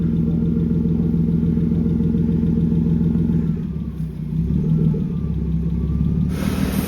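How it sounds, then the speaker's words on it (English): A BMW E36 engine idles with a steady, loud rumble and a faint lifter tick, its tone dipping briefly near the end. "It's a little bit loud, but not too bad, I don't think. We got a little lifter tick"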